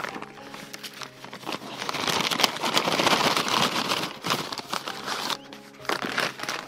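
Garlic bulbs in paper packaging crinkle and rustle as they are handled, a dense papery crackle that swells and fades over several seconds with no speech.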